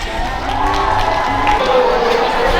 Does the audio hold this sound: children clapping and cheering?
yes